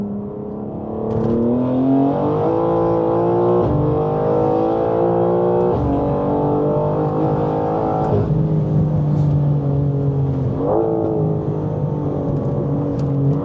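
A car engine pulls hard through several gears, its pitch climbing steadily and dropping at each shift. The sound is loud, close and continuous, with no one talking over it.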